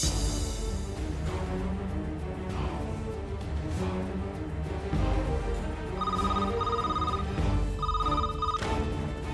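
A telephone rings in repeated electronic bursts, the trills coming in evenly spaced pairs over a faint background hum, with no voices.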